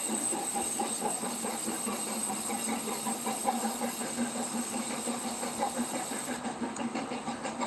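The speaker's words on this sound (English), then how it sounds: "chuff sound is like an engine running at like 20 or 30 miles an hour." A steam shop switcher locomotive in the Roblox game High Iron chuffs at low speed, a continuous rhythmic exhaust beat with mechanical clanking, steady and moderately loud throughout.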